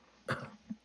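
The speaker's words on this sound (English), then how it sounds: "He's coughing a lot." A man coughs in dusty air, one short sharp cough followed by a smaller catch, faint and close.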